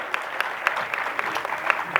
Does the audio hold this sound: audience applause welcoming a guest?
yes